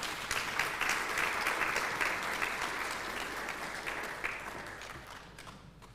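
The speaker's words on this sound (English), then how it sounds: "let's give him a round of applause" Audience applause for Dr. Sishi at the launch of a hairdressing occupational certificate at Ekurhuleni West TVET College, a dense round of clapping from a seated crowd that holds steady and then tapers off over six seconds.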